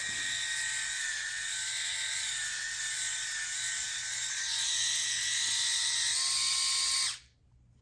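A Brio Raze electric head shaver runs on its lower setting with a steady, close, high-pitched motor whine and buzz, holding evenly for about seven seconds before abruptly cutting off.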